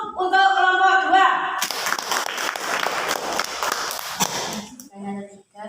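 Classroom applause for the second student group, a loud burst of clapping that lasts several seconds, with a teacher's voice before and after it.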